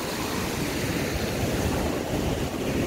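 Sea waves roaring on the shore at Mandarmani, a continuous loud broadband wash of surf with wind rushing across the microphone, with no talk.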